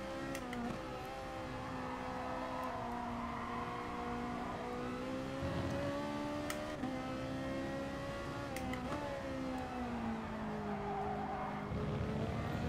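Race car in the Gran Turismo Sport video game, with a steady, loud engine drone and tire squeal as the car skids and slides, the revs rising and dipping continuously throughout.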